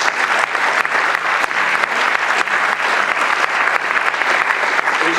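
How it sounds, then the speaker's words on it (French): Sustained applause from an audience at the opening evening of a French October gathering, steady dense clapping filling the room for several seconds with no break. "je crois qu'on peut l'applaudir"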